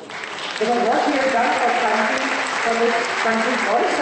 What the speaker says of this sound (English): give a loud round of applause for this